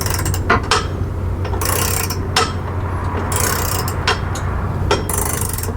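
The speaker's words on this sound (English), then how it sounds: "With the ratcheting wrenches, this would make this job a little bit easier." A long-reach flex-head ratcheting wrench clicks in short bursts while working on a car engine bay, with sharp ratchet bursts recurring over a steady low hum.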